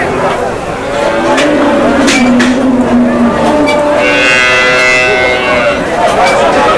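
Dairy cows low and moo at a busy outdoor cattle market in Hazratpur, with long drawn calls over a loud, continuous crowd and background bustle, voices chattering throughout.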